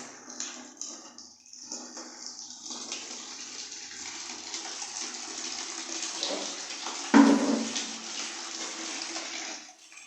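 Water poured out for birds as a steady, close rush and splash lasting several seconds, with a brief louder knock partway through before the flow stops, and no speech.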